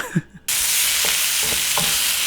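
Stir fry of frozen vegetables and sauce frying in a pan gives a loud, steady close-up sizzle after a brief quiet start, with faint stirring scrapes and clinks now and then.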